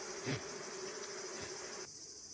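Honeybees buzz around honeycombs during the August honey harvest, a steady close hum with a few louder passes near the microphone.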